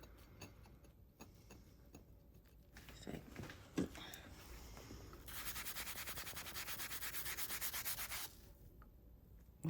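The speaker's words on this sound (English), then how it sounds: "Ketchup just needs a wee bit scraping. Yeah, it needs a scrape." Dried ketchup scraped off kitchen tile: a steady, close rasping rub with fine rhythmic ticks, running several seconds after a few lighter scrapes and taps.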